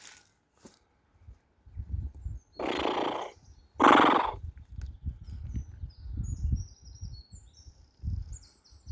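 Two loud horse whinnies in quick succession, nearby, over a low rumbling background of wind or traffic.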